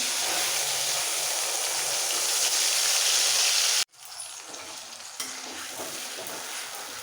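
Onion paste frying in hot oil gives a steady, loud sizzle with stirring. Partway through it drops off sharply, then returns softer and quieter.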